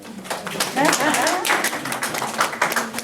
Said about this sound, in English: Can I get another round of applause for my